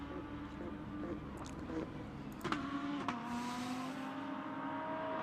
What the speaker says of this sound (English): These cars sound absolutely amazing as well.